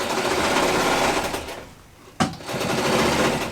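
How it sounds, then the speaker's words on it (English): Sewing machine stitching curtains, a loud, close, rapid mechanical whir that runs steadily, eases off briefly, then restarts with a sharp click and carries on at full speed. "now, we are sewing"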